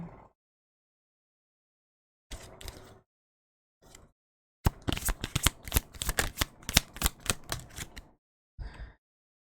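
Oracle angel cards are shuffled close up in a quiet room: a few short bursts of riffling, then a longer run of rapid crisp flicks, ending in one brief final shuffle.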